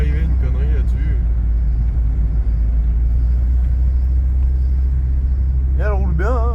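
Volkswagen Golf 3 rolling slowly at about 30 km/h, a constant low engine and road rumble from inside the car, with people talking over it.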